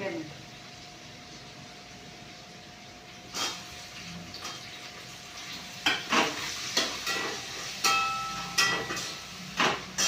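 Tomatoes fry and are stirred in a pan, soft sizzling under intermittent scraping stirs that grow more frequent in the second half, with a voice talking.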